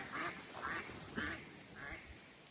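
Four or five nasal quacks from ducks, evenly spaced and fairly close, over quiet outdoor background.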